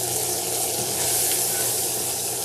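Thyme sizzles steadily in a hot sauté pan while a steak sandwich is being made, a loud, continuous crackling hiss with no voices over it.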